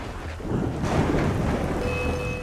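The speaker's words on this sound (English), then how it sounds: "It's raining." A rumble of thunder rolling over steady rain in the video game Assassin's Creed: Unity, fairly loud and continuous, with a faint high tone appearing near the end.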